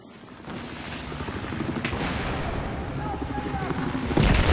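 Battlefield 4 combat with a helicopter falling amid gunfire: dense, continuous rumbling roar and crackling shots that build steadily louder, ending in a heavier burst near the close.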